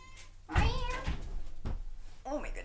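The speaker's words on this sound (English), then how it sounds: "my cat is screaming" A house cat lets out two loud, drawn-out meows close by, one early and a shorter one near the end, with quiet background between.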